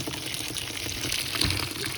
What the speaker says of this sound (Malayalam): നമ്മുടെ വാഷിംഗ് മെഷീനിലോട്ട് വെള്ളം പോകുന്നുണ്ട്